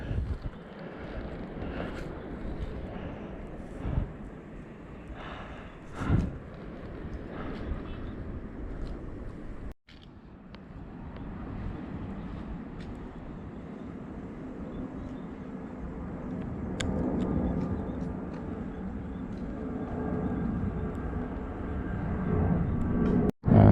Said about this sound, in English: That's the airplane from the Songshan airport.